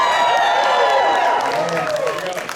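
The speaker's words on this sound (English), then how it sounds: "Please give them another round of applause." A convention crowd at a Smallville fan panel in Chicago in 2025 claps, cheers and whoops loudly, with high, excited shouts ringing above the applause before it fades slightly.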